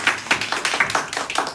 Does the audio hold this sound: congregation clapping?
yes